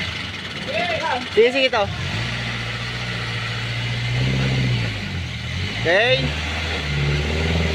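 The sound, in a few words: vehicle engine towing a Hyundai van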